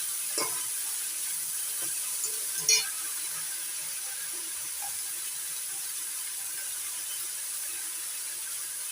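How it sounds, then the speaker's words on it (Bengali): Malabar spinach leaves and green chillies frying in a pan, a steady soft sizzle running throughout with a couple of brief scraping stirs near the start, fairly faint and close. "এবার নাড়াচাড়া করে একটু ভাজা ভাজা করে"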